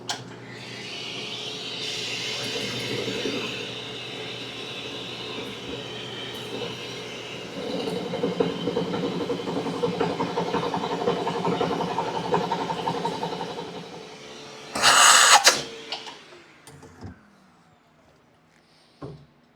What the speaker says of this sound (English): there's an attachment piece at the very bottom we're going to try to drill out